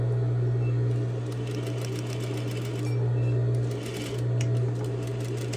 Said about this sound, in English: Stitching and back stitching at the beginning and end of this very short seam.